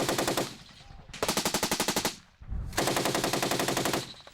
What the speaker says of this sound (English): off to our left, there were several explosions. And those were RPG rounds or missiles coming. And then gunfire.